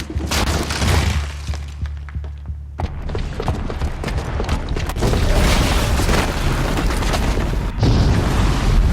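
A bomb blast in the video game Horizon Zero Dawn, with heavy booming and shattering debris crashing on and on across several seconds, loud and close, with no talk.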